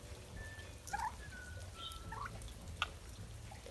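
A turkey gobbles in short rattling bursts while puffed up in a poultry yard, the calls fairly faint and spaced over a quiet background, with brief clicks and drips between them.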